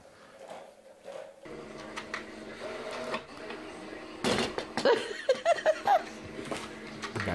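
A printer runs with mechanical whirring and feeding noises in a viral animal clip, while people laugh and giggle loudly over it toward the end.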